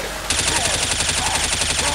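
Rapid automatic gunfire in the co-op zombie shooter Left 4 Dead 2, on a LEGO custom campaign map, bursts in suddenly and keeps up a dense, steady rattle of close shots for the rest of the moment.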